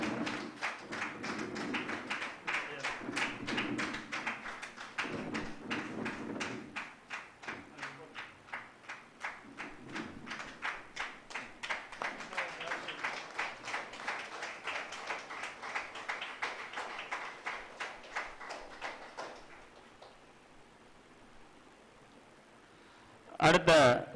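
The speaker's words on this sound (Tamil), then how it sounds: "அனைவரும் கைத்தட்டி உற்சாகப்படுத்துமாறு கேட்டுக்கொள்கின்றோம்." Audience applause at a monthly astrology seminar meeting: a long run of steady hand clapping from a modest crowd, lasting about twenty seconds before fading out, with a brief burst of noise at the very end.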